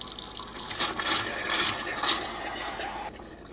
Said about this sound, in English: I'm just going to switch the pump on and we'll run some water through the taps